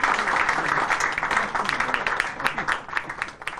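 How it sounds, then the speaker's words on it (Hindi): Loud, dense audience applause at an event ahead of a cake cutting, with many hands clapping steadily and close, then thinning out slightly toward the end. "जोरदार तालियां।"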